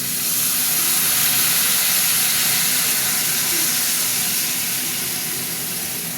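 Water poured into a pan of fried vegetables, bursting into a loud, steady, broadband hiss of sizzling steam that holds close and constant, easing only slightly toward the end, with no voices.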